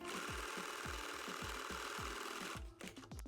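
A sewing machine stitches a fabric tool pouch in a fast, steady mechanical chatter with regular thumping strokes, close and loud, then stops abruptly near the end, leaving a few lighter clicks.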